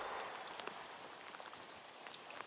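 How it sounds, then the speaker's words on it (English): Rain falling outdoors, a soft, steady patter and hiss of drops on surfaces, fairly faint and even throughout with a few sharper individual drop taps and no voices. "We're out in the rain right now, and you can see it."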